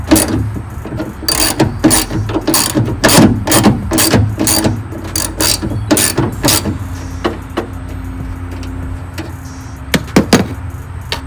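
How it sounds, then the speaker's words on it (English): A ratchet wrench clicks in quick irregular bursts while a 13mm hood strut bolt is loosened on a 1999-2006 Chevy truck, close and fairly loud with metallic handling knocks, the ratcheting thinning out toward the end. "So first thing you want to do is remove this top bolt, and there's a nut behind it that you have to hold with a wrench"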